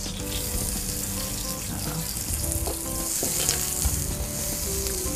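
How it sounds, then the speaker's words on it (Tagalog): Garlic and onions sizzling and frying in a hot pan, a steady close crackle throughout, with a brief word spoken at one point. "So, ang lalagay na natin ang ating bawang. Po. And then onions po ba?"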